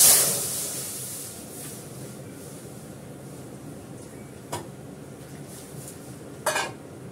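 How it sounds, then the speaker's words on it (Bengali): Dal is tipped into a pan of sizzling radhuni tempering for a sweetish Bengali shukto dal. A sharp hissing burst opens, settling to a faint, steady sizzle, with two brief metallic clinks later on. "রাঁধুনি ফোড়ন দিলাম, এবার ডালটা দিয়ে দেবো"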